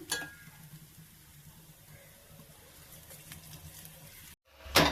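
Carrot roti fries in oil on a hot tawa with a soft, steady sizzle and faint crackle for several seconds. A brief silence follows, then a sharp metallic clatter.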